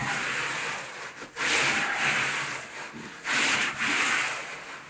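A trowel smooths thinset mortar beneath Schluter Ditra tile underlayment on a floor, giving close, steady scraping strokes with two louder sweeping passes.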